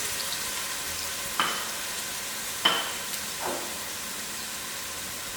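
Cinnamon sticks dropped into a sizzling pan while making broad bean curry, a continuous frying hiss with a few brief louder bursts as pieces hit the hot oil.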